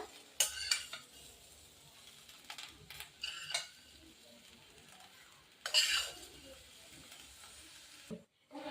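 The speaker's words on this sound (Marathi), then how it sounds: "हे मिश्रण मी उखळमध्ये टाकून घेतलेलं आहे हलकस गरम आहे तर आपण ते टेचून घेऊया" Warm sesame-and-chili thecha mixture is pounded in a stone mortar, giving a few sharp knocks and scrapes with quieter stirring between them, close and fairly soft, with no voices.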